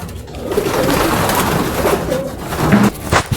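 Pigeons cooing close by, a soft, steady run of overlapping throaty murmurs with a few louder coos near the end.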